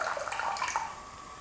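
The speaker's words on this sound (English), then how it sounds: "So I'm going to pour the water in, even with a little bit of it aerating in" Hot water pours steadily into a teapot for brewing Japanese green tea, a soft close splashing and gurgling trickle lasting about a second before tapering off.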